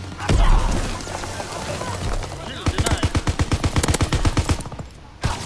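Machine gun fire in a PS4 video game, with a long burst of rapid, evenly spaced loud shots after an earlier isolated blast, and a final single report.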